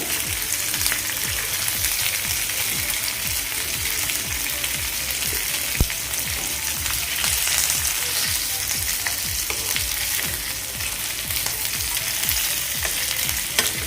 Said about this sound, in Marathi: दुसऱ्या साईडनेही व्यवस्थित आपण फ्राय करून घेऊया